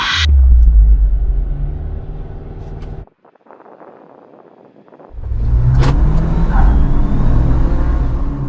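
A Jeep Wrangler Rubicon's turbocharged 2-litre four-cylinder engine rumbles loudly up close, cuts out briefly to a quiet hiss, then roars back as it revs and accelerates.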